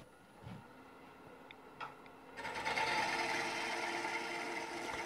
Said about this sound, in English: So notice how this bottom feeder just kind of really cuts that wood